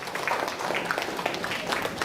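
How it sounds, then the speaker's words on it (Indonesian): Students applaud in a classroom, a steady patter of many hands clapping with some voices mixed in, fairly close and continuous. "Tepuk tangan buat kalian juga."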